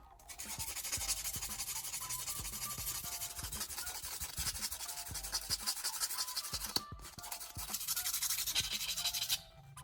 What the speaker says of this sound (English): Grab a small piece of fine grit sandpaper and clean each end until the metal looks bright again.